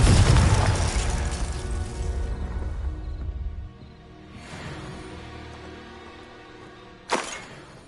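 A Confringo blasting spell goes off in Hogwarts Legacy, a loud, deep explosion with a long rumbling decay, then a fainter second burst and a sharp crack near the end.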